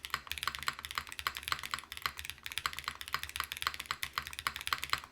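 Steady, fairly quiet typing on a KBDFans Dusk67 wooden-cased mechanical keyboard fitted with a silicone insert, with fast irregular key clacks running throughout and no talking.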